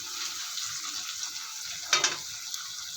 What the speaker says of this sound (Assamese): অলপ সময় আলুখিনি ভাজি ল'ম।